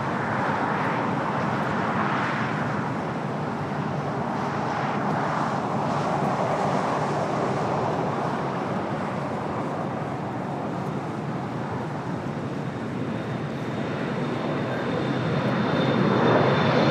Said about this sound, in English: Flight 22, the second Air France flight of the day in the LAX